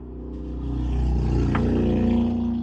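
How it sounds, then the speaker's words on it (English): A motorbike engine rising as it approaches and passes a house outside, a swelling low drone with a brief higher whine, no talking. "I cannot control people riding their bikes past my house."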